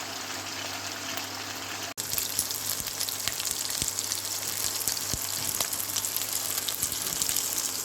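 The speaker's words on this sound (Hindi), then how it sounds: "देखिए ये बिल्कुल पक गया है, फ्राई हो गया अच्छी तरह से दोनों साइड से।" Mutton boti kabab pieces frying in a pan, home desi-style cooking: a steady, loud broadband sizzle with crackling pops runs throughout after a brief cut near the start, with no talking.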